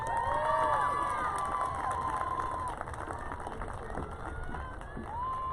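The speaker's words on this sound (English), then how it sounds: "Let's give them another big round of applause." A graduation ceremony audience for the Class of 2022 cheers loudly with shrill whistles and shouts over clapping, the crowd noise dipping slightly partway through and then holding steady.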